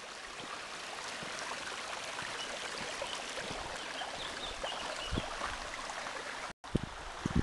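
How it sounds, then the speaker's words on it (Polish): A small mountain stream crossed on foot along a trail near Wielka Rycerzowa: steady, close, broadband rushing and trickling water, with a few soft knocks of steps and stones and a brief dropout near the end. "Tu lekka przeprawa przez strumień"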